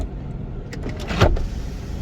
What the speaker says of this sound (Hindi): सनरूफ कैसी है, तो मैं आपको ये ऑपरेट करके दिखा देता हूँ